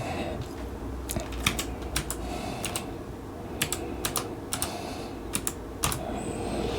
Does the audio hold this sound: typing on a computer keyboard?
yes